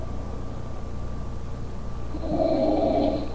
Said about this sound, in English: been snoring like a bear.